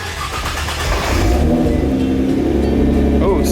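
Nissan GT-R on flex fuel with carbon fiber intakes revs up, engine note rising and holding loud and close, with a brief bark near the end.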